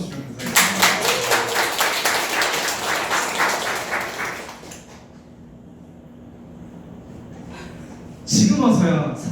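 An audience claps after a speech at a living-room live talk event, a dense, loud burst of applause that fades into quiet room tone before a brief rustle of movement.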